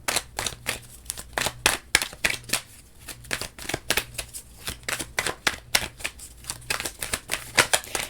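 Tarot cards riffle and slap in rapid, uneven bursts of crisp shuffling, close and quiet, with brief pauses between rounds and no talking.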